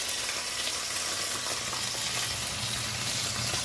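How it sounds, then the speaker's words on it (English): A salmon fillet cooks in a hot pan, giving off a steady, even sizzle and spatter at close range. No voices break in. "while the salmon is cooking"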